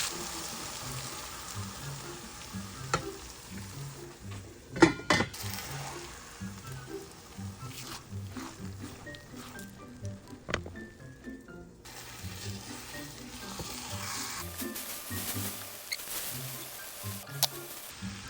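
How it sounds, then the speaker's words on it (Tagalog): Bitter gourd and eggplant sizzling as they are stirred in a frying pan, a steady crackling fry with a few sharp clinks and scrapes from the utensil throughout. "Halo na natin guys yung talong ampalaya."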